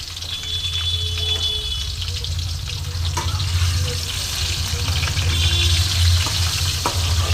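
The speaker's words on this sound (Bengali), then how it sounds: "একটু লবণ দিয়ে আলুটা আমি ভেজে নেব" Potatoes fry in oil with a little salt for a thin mutton curry, giving a steady sizzling hiss with faint clinks and a low hum underneath.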